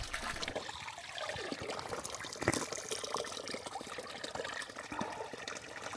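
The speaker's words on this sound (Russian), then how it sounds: "Неподалеку находится еще один родник." Spring water near the Korovka River in Rybinsk trickles and splashes steadily, a close, irregular dribbling with occasional louder drops and no talking.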